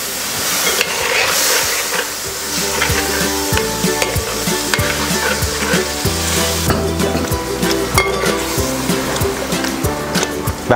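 Coconut and coriander masala sizzles and frys in a pan as water is poured in and the mixture is stirred, steady loud crackling with scraping stir strokes throughout.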